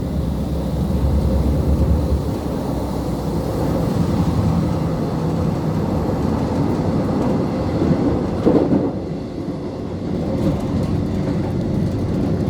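A passenger train near Exeter runs through a long tunnel, giving a steady, loud, enclosed rumble with a dense low roar that holds throughout and a brief louder surge near the end.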